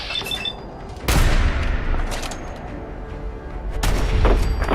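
Loud gunfire and heavy booms in a Fallout 4 firefight, with a big blast at about one second followed by sustained rattling shots and another burst of blasts near the end, no talking.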